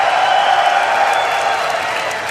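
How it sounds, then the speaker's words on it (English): A large esports crowd at a League of Legends finals cheers and roars continuously in a steady, dense wash of noise, loud and sustained throughout with no individual voices standing out. "they have been cheering for you"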